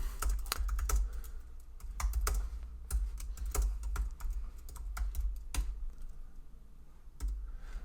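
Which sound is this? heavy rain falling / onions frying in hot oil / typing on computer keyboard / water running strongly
typing on computer keyboard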